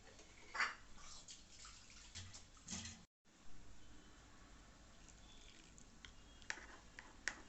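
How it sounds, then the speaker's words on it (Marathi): Water poured into a pan of simmering chole curry, heard as a faint, soft trickle and splash with a few small drips, with no talking. "थोडंसं पाणी घालून घेते मी याच्यामध्ये"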